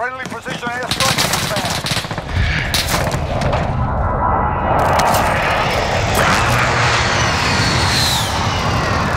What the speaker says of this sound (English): Friendly position airstrike.